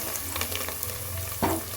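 Oil and ingredients sizzle in a pan for tomato rice, a close, even crackle with a brief louder stir near the end.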